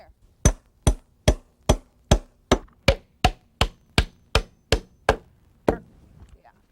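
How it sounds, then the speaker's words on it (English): A hammer drives nails to toe-nail a wooden end joist into place while framing a three-season porch. Thirteen sharp, evenly paced blows ring out close by, then one last strike after a brief pause. "The end joist then slips right in and we toe nail it into place"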